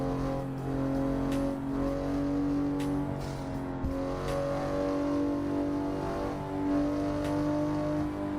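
A Toyota Supra engine in the racing game Assetto Corsa holds a steady, droning hum at near-constant revs, fairly loud and continuous, with no talk over it.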